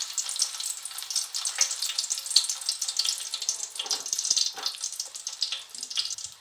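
Garlic cloves crackle and sizzle in a pan of hot oil for a tomato pickle tempering, a dense hiss with scattered pops, close and continuous, with no talk.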